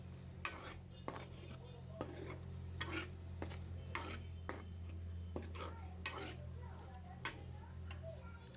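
Tripe curry with tomatoes stirred in a pot, with a spoon repeatedly scraping and knocking against the metal in an uneven rhythm over a low steady hum, heard close and faint.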